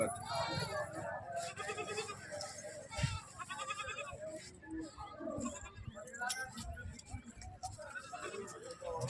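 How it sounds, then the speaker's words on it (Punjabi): Goats bleat repeatedly amid a busy outdoor goat market, with people talking and moving around nearby throughout. "ਆ ਬੱਕਰੀ ਹੈ ਤੇ ਆ ਦੇ ਮਗਰ ਪਾਠ ਹੈ"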